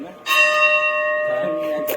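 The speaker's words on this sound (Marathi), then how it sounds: "घंटी वाजली" A temple bell in a temple precinct at Rajapur is struck loudly and close by, ringing out with long sustained tones, and lighter strikes follow toward the end.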